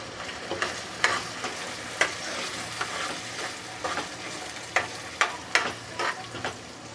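A ground onion and tomato paste fries in oil in a kadai with garam masala, shallots and ginger-garlic paste for mutton korma, producing a continuous sizzle broken by repeated sharp stirring scrapes, close and without speech.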